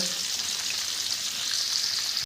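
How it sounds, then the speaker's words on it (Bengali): Ghee and butter sizzling steadily as they heat in a wok, a bright even crackle close by with no talk. "কড়াই এখন ঘি আর বাটার দিয়ে দিয়েছি, বাটারটা গরম হচ্ছে।"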